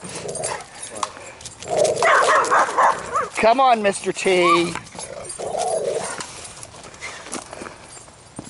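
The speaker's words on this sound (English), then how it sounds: "Tank does not like other dogs." A dog barks in short bursts in the middle of the stretch while someone out walking it talks over much of the sound; the barking is close and loud against outdoor background noise.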